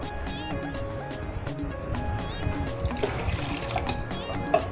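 Liquid trickles and splashes as it is poured into a measuring cup for bread roll dough, a continuous close filling sound with a faint background hum.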